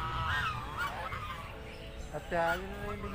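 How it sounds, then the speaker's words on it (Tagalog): Geese at a fishing pond honk loudly and nasally in several close calls, the last one long and strong, while a person talks over them. "yung mga sounds nitong mga ganso"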